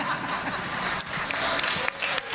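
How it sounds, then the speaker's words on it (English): Audience clapping during a live show after a comedy line, a dense continuous patter of many hands with some crowd noise mixed in, steady and fairly loud throughout. "Everybody clapping."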